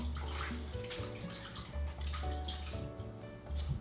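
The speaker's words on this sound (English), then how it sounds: "So I wash my bitter melon." Tap water runs steadily over bitter melon being washed in a sink, a close continuous splashing stream with small shifts as the vegetable is turned under the flow.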